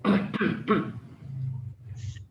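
A person coughs twice in quick succession at close range during a seminar presentation, each cough harsh and loud, followed by a softer throat-clearing sound and a short pause.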